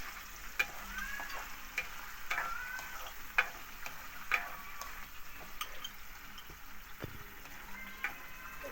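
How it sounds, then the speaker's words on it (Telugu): Paneer fries in hot oil in a home kitchen, a steady soft sizzle broken by sharp crackling pops and a few clinks of the pan or spoon, close by with no one talking. "చూడండి ఫ్రెండ్స్, పన్నీర్ చురకలు పడుతున్నాయి ఫ్రెండ్స్"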